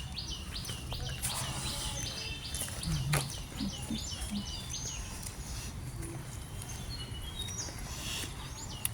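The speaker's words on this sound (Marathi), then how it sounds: "इथे टिटवी वगैरे असे विविध पक्षी येत असतात मागे पुढे खूप झाडं असल्यामुळे" Assorted birds, lapwings among them, call from leafy trees in a green, almost forest-like spot, with repeated chirps and whistles scattered over steady outdoor background noise and no speech.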